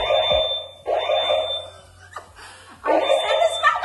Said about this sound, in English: I just set the smoke alarm up.